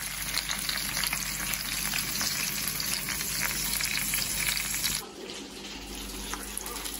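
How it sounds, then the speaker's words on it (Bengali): Chanda fish and green chillies fry in a pan with a steady, dense sizzle that drops abruptly to a quieter crackle partway through, no voices present. "অর্ধেক মাছ ভাজি করার পরে মনে হয়েছে যে কয়েকটা কাঁচামরিচ দিয়ে দিই"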